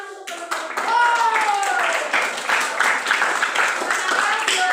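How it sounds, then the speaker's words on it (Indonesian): A classroom audience claps for their classmates in a brief, lively burst of hand clapping, with voices chattering and calling out over it. "kita kasih tepuk tangan untuk teman-teman"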